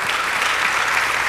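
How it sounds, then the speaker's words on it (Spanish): A church congregation at a Spanish-language service claps together in a brief, full burst of applause, close and even, with no speech over it. "Dale el aplauso grande al Rey"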